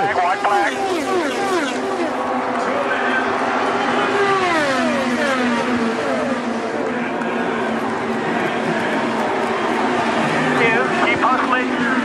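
IndyCar race cars roar through the final lap of the Indy 500, a loud continuous engine drone with pitch sweeps as cars pass, a commentator's voice layered over it.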